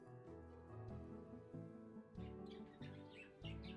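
Small birds chirping in the background, faint repeated tweets scattered over a steady tonal music bed, no talk.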